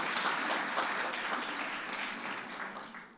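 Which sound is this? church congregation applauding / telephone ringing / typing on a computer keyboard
church congregation applauding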